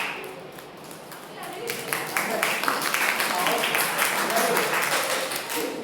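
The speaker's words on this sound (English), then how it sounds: "Everyone get ready to clap." A lecture audience claps together, a steady rolling patter of hands that builds and then holds, with voices mixed in underneath.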